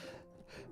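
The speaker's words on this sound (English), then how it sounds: "A sharp inhale, like someone is sucking the air through their teeth." A brief, quiet, hissing breath drawn in sharply through the teeth in a video game, a single airy inhale under a second long.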